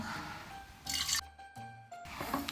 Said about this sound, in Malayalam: ചൂടുവെള്ളമാണ് ഞാൻ ഇതിനകത്തോട്ട് ഒഴിക്കുന്നത്